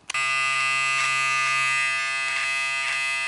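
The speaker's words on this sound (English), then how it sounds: "I'm going to switch to the detail trimmer now." An electric detail trimmer from a Ufree beard trimmer and body shaver grooming kit switches on after a click and buzzes steadily at close range, a bright, even motor whine with no talking.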